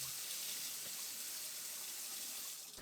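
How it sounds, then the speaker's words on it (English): Water runs steadily from a newly installed kitchen faucet, a soft, even hiss of flow into the sink that stays constant and fairly quiet before cutting off abruptly at the end. "check that the hot and cold water are both working"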